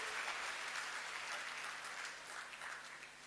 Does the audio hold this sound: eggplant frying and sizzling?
no